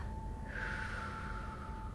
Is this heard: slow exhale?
yes